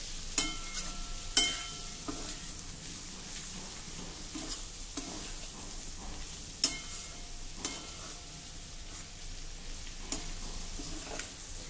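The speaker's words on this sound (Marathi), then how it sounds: "आलं लसूण आपल्याला अगदी खूप परतून घ्यायचं नाही, या मसाल्यासोबतच अर्धा मिनिट फक्त आपल्याला हे परतायचं आहे" Ginger and garlic sautéing with masala in a pan over a low flame, a soft continuous sizzle broken by several sharp scraping stirs of the spoon at irregular intervals.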